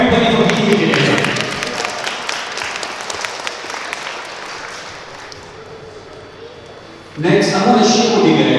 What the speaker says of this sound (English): Let's give a hand of applause for everybody for being here today.